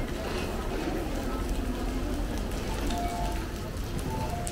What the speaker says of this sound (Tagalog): Ayan, umuulan siya.